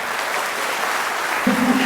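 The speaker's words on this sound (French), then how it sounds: "Je vous demande d'accueillir comme il se doit, c'est-à-dire par un tonnerre d'applaudissements" Theatre audience applauding at a reopening performance: a steady, dense wash of clapping from a full hall, with a voice starting over it near the end.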